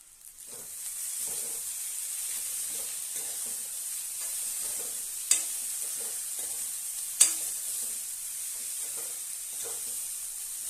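Millet semiya being stirred in a pan on the stove, a soft continuous sizzle and hiss with quiet scraping strokes of the spoon and two sharper clinks against the pan, no talking.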